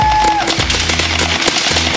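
A gel blaster fired on full auto at close range gives a fast, loud, steady stream of snapping shots that runs for about two seconds under a continuous motor whine.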